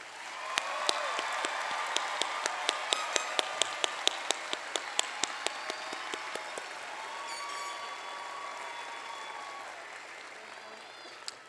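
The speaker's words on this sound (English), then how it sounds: "everybody just gave a congratulatory applause for the graduates all together" Audience applause for graduates at a 2019 commencement ceremony, a loud sustained wash of clapping from a large crowd with sharper individual claps standing out early on, then easing into steadier, softer clapping with some voices beneath.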